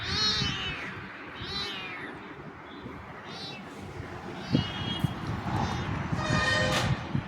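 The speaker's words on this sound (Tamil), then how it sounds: "எங்கள் பூனைக்குட்டி பாருங்கள்" A kitten meows repeatedly, several high, wavering cries spaced irregularly and close by, over soft household background noise.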